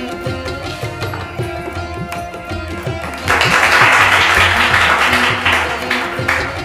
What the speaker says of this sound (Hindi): सब लोग तालियां बजाते रहिए